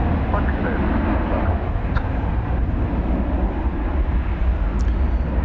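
Jet airliner Turkish Flight 192 taxiing at DFW airport, a steady, loud broadband engine rumble that holds constant throughout without clear peaks.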